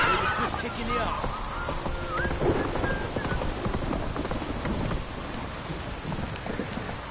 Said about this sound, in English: This downpour's up fast.